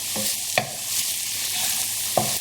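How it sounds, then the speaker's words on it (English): Spices sizzle steadily in hot oil in a pan for a Bangladeshi vegetable curry, with a spoon scraping and knocking against the pan now and then, close and without talk. "once the spices have cooked out, I've been stirring this for about a minute and a half"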